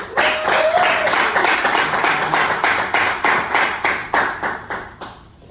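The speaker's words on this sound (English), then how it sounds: "Can we get one more round of applause for them" A small group claps, loud and close at first, then the sparse applause slows and thins out over several seconds.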